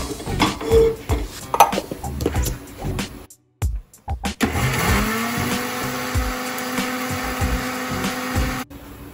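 A kitchen mixer grinder jar whirs loudly in bursts, grinding cooled roasted pav bhaji masala to a fine powder, with a short stop and rattles before settling into a steady high-pitched grind.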